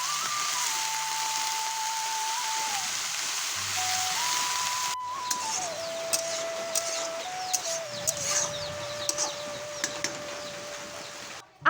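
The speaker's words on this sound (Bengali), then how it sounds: "তো আমাদের এখানে বিকেলবেলা বৃষ্টি শুরু হয়েছে, জানেন?" Steady rain falling on an afternoon in a village, a continuous broadband hiss with scattered nearby drips and taps, plus a faint whistle-like tone and occasional bird calls.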